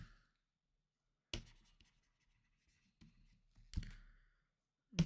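Brief bursts of pen or chalk writing out a math proof by hand, a few short scratchy strokes separated by near silence, close and fairly quiet.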